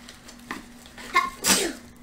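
A single sharp sneeze breaks out close by after a few short sniffing breaths, loud and abrupt, then fades quickly.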